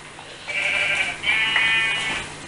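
Sheep bleating in Minecraft, two loud drawn-out bleats in quick succession, close and alone with no talk over them.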